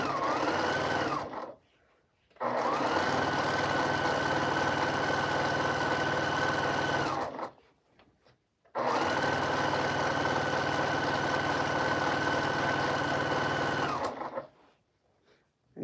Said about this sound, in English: So you want to make sure you sew one way and then sew the other.